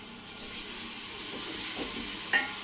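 Meat, onions and peppers fry in tomato paste in a pan for a Turkish meat and bean stew, making a steady close hiss of sizzling with a faint clink near the end.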